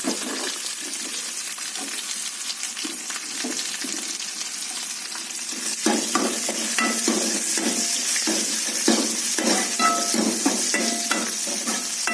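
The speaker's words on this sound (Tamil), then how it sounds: "போட்டு நல்லா வதக்கிக்கிறோம்." Onion, shallot, curry leaves, green chili and ginger-garlic paste sauté in a hot pan with steady close sizzling. Louder bursts of frying and scraping stirs come in the second half.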